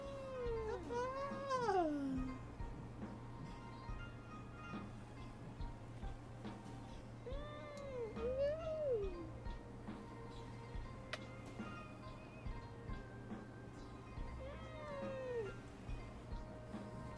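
A cat meows and whines in drawn-out, wailing cries, three separate calls spaced apart over a steady low background hum, fairly close and moderately loud.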